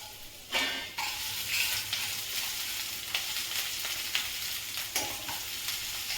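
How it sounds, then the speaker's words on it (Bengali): Garlic and green chillies sizzling in hot oil, a bright continuous crackle close by, with occasional spatula scrapes breaking through. "একটু রসুনটাকেই ভাজা ভাজা হবে,"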